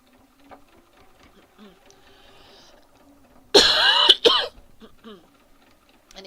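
A home sewing machine running a short burst as it stitches a narrow, undersized seam on a quilt piece, a loud whirring run of about a second followed by a brief second burst, with quiet room noise before and after.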